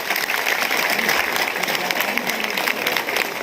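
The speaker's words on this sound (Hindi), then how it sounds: "जोरदार तालियों से हर्ष मल्होत्रा जी का अभिनंदन करें" Audience applause at a large Delhi traders' convention for Harsh Malhotra, as a dense, steady wash of many hands clapping with crowd noise, loud and sustained throughout.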